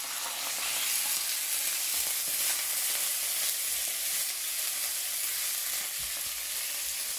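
Steady, close sizzling of duck fat frying in a hot pan, a continuous crackling hiss with no talking.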